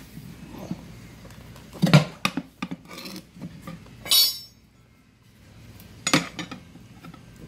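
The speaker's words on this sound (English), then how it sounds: "you just want to work this spoon around until you get the tire up over the edge of the rim" Metal tire spoons prying a mini bike tire over the rim, giving scattered scraping, rubbing and clinking strokes with a sharp metallic rasp midway, close and fairly loud against a quiet background.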